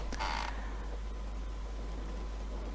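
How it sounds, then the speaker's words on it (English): A wooden church pew gives a single short creak near the start, then only a quiet, steady room hum follows. "she heard the pew behind creak"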